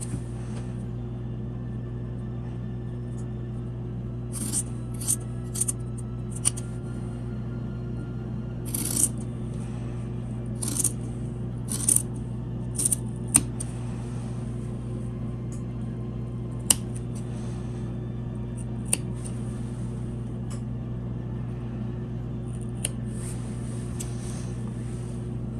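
Scissors trimming a square of sewn fabric for a detachable collar, giving sparse, sharp little snips and clicks scattered irregularly over a constant low hum in a quiet room.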